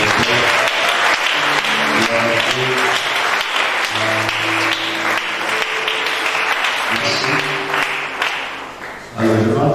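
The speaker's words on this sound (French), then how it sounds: "Est-ce qu'on peut acclamer le Seigneur pour la vie de notre Père?" A church congregation at a French-language service applauds loudly and steadily for nearly ten seconds, with voices and cheers mixed into the dense clapping before it fades near the end.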